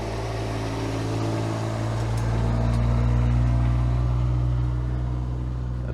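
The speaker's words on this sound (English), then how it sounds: "That's a loud truck." A loud truck rumbles past near a beach, its low engine drone swelling to a peak midway and then easing off slightly, a steady heavy roar with no voices over it.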